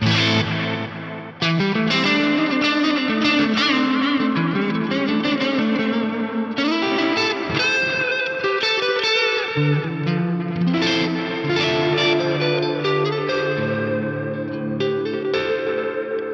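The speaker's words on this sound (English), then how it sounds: "let's go for this RE202 old tape based on like a space echo style thing" Electric guitar plays chords and melodic phrases through an RE-202 Space Echo style tape echo effect on an Axe-Fx, with echoing repeats and a swirling wash trailing each note, loud and up close, no voices.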